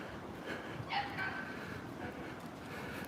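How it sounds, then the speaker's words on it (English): A dog barks faintly and at a distance in a residential yard, with a brief bark near the start that is partly buried under steady outdoor background noise. "That dog ain't right either."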